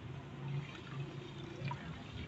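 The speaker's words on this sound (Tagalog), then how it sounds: "Buhos lang natin guys." Homemade dishwashing liquid pours steadily and close up, a soft continuous splashing stream with no voices.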